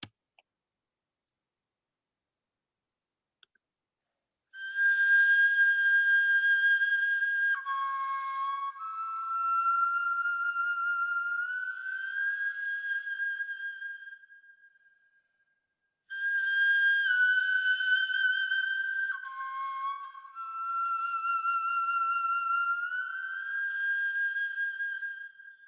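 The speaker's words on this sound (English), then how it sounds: "one of the solo improvisations for the recording on a swan flute from Hohefels cave" Replica swan bone flute from Hohle Fels cave plays a solo improvisation: two long whistling phrases with sliding pitch bends and wavering held tones, clear and close, separated by a brief pause and preceded by near silence.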